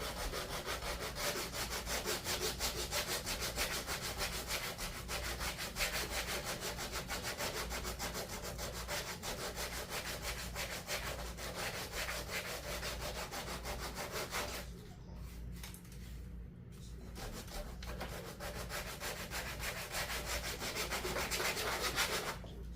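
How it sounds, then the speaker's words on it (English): A small finger sander smooths a Dollar Tree wooden craft piece with a steady, close buzzing rasp that runs continuously, drops out briefly near the end, then resumes, with no talking. "So I'm just going to smooth it out by using the sander."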